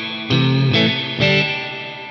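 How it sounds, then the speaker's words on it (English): An electric guitar runs through an MXR reverb pedal set to spring reverb: three strummed chords, each ringing out with a lush, washy tail that blends into the next, loud and close with no talking. "like a spring reverb"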